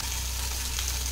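Green chilies sizzle in hot oil in a pan, a short burst of steady, even hiss with no talking.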